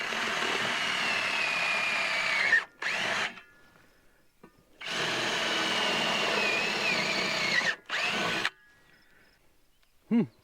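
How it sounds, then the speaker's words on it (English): A power drill whines as it drills through wood, in two long bursts, each trailing into a short second burst, with near silence between and a brief whir at the end. "Now we'll drill the holes through the wood"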